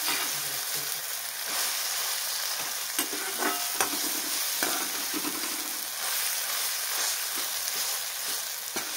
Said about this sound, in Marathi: आता आपल्याला तिखट पण छान परतून घ्यायचं